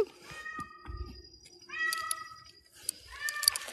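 A pet cat with a small chain collar meows repeatedly indoors, several drawn-out, rising-and-falling cries close by, separated by short pauses with soft rustling and a brief low bump.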